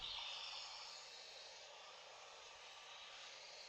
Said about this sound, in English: I'm replaying now pink noise from my MR Pro, and I'm executing the measurement